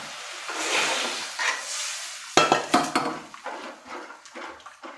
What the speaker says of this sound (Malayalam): 2 ടേബിൾ സ്പൂൺ കടലമാവ് നമ്മൾ കലക്കി വെച്ചിട്ടുണ്ട്, അതും കൂടെ ഒഴിച്ച് കൊടുക്കാം.